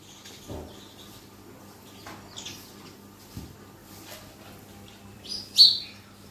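Sparrows chirp in short, bright bursts outdoors, scattered through a quiet background with a louder, closer call near the end; a few low thumps mix in.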